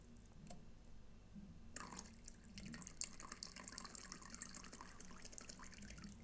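A thin stream of water pours from a pour-over kettle used for alternative coffee brewing, starting after a brief quiet moment and continuing as a soft, steady trickle, close and faint.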